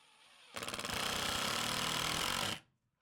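A power tool drives a screw into timber while a pleather bed head is being built, a loud close whirring burst lasting about two seconds that starts abruptly and stops sharply.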